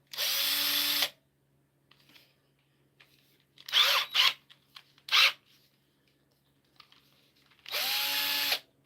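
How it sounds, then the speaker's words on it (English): A cordless drill with a dying battery whirs in two steady bursts at the start and end, with short uneven spurts of motor noise and clicks in between, no talking. "Watch this battery die on this drill"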